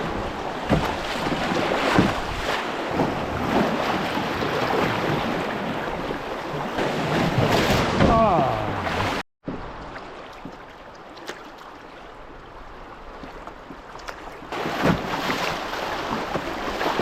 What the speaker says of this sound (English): Dodgy bit here just ahead of us. Yeah, could be interesting. It's a pretty big wave.